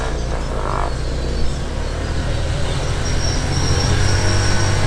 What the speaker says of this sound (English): It's a Toyota Camry, automatic.